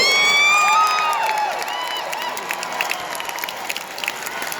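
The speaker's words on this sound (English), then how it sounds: "So how about a nice round of applause for the winner, Charlie Andrews." A crowd at a jousting tournament claps and cheers for the winner, with high shouts and whoops at first that settle into sustained, fairly loud applause.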